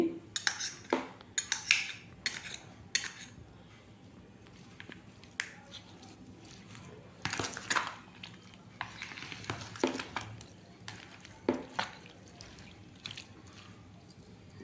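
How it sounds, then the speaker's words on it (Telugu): Mustard powder, chilli powder and fenugreek powder being mixed by hand and spoon into citron pickle, with intermittent scraping and clinking of utensils against a vessel, close and moderately loud, in short bursts with pauses. "కొంచెం ఆవాల పిండి కలుపుతున్నామండి"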